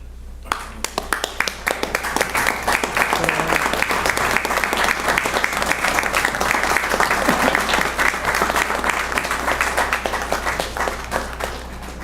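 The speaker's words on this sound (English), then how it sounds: "I would like for us to stand and give them applause for the work that they do" Sustained applause from an audience at a commission meeting, many hands clapping steadily and fairly loud for about eleven seconds after a brief quiet start, with little talk over it.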